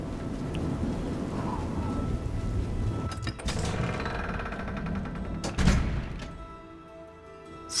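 Rain falls in the video game The Elder Scrolls IV: Shivering Isles, a steady hiss broken by a few sharp cracks and rumbles, thinning out toward the end, with no speech.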